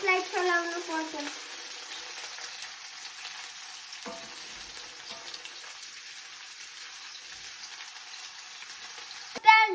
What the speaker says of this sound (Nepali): हाम्रो चाउमिन पनि यसरी अब प्याजलाई चलाउनु पर्छ।